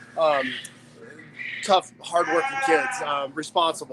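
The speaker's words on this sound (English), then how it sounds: "If you can hear the sheep there in the background." Sheep bleat in the background at a county fair and rodeo grounds, with several wavering calls mixed under someone speaking close to the microphone.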